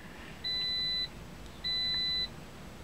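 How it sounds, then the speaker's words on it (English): Two identical high electronic beeps, each about half a second long, separated by a short pause, sounding clearly over quiet background hiss. "wait for this thing to stop beeping so I could talk"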